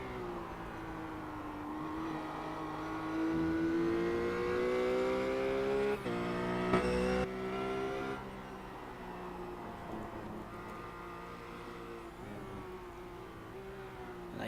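Race car engine in the iRacing sim cruising past amid traffic, a steady loud tonal drone rising in pitch, swelling briefly as it passes, then settling into a continuous hum.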